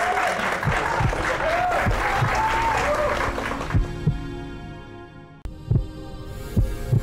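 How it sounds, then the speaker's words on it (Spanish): A studio audience at a Spanish-language medical talk show applauds loudly and densely for a few seconds, then the clapping drops away to a quieter room with scattered knocks. "Gracias por esos aplausos."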